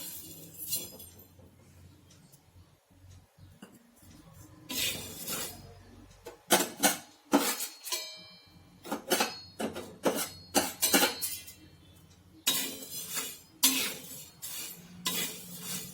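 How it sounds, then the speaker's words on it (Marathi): Urad dal dry-roasting in a pan for Maharashtrian yesur masala, with repeated bursts of grains rattling and a spoon scraping and clinking against the metal. The scraping comes in uneven clusters separated by brief quieter gaps, fairly close and clear. "आता मी उडदाची डाळ भाजून घेणार आहे।"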